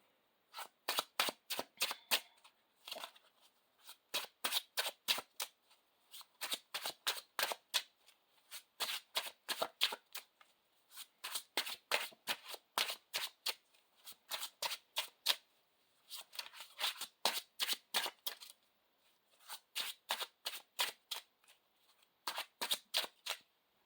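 Tarot cards are shuffled in quick riffling bursts, each a rapid string of sharp crisp flicks, repeating in clusters with short gaps, close and clear with no talk.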